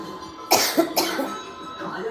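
Two or three close, harsh coughs in quick succession, each a short burst of breathy noise, with faint background sound between them.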